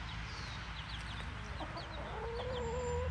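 Backyard hens behind chicken wire cluck in short repeated calls near and far, then one gives a longer drawn-out cackle toward the end, with no talking.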